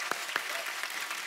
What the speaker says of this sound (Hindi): पहले तो इस बात के लिए तालियां होनी चाहिए।